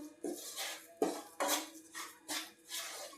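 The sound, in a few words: stirring rajgira flour and jaggery in a pan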